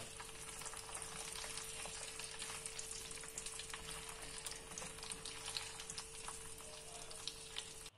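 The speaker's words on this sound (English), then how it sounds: "Heat up enough vegetable oil in a pot for deep frying on medium-high heat. And once the oil is hot, add in the fries." Frozen fries deep frying in hot vegetable oil in a pot over medium-high heat, a steady dense sizzle and crackle running unbroken and fairly loud throughout, with a faint constant hum beneath.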